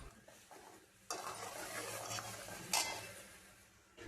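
Vegetables with half a spoon of turmeric stirred in a pan for a spinach dish, a spoon scraping and mixing over a soft sizzle, close but quiet, with a brief sharper scrape partway through.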